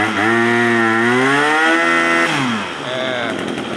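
A used Japanese Maruyama 23 brush cutter's small two-stroke engine runs after a light pull start, droning loudly and steadily close by with rising and falling revs, and no talk over it.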